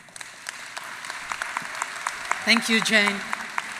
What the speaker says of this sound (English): let's give them all another well-deserved round of applause